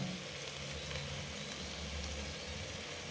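Fish shallow-frying slowly in a pan, a steady soft sizzle with faint crackle running unbroken and alone throughout.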